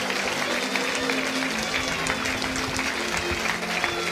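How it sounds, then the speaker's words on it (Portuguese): Church congregation applauding steadily, dense continuous clapping filling the space with a faint murmur of voices underneath. "Recebe o servo de Deus com uma salva de palmas."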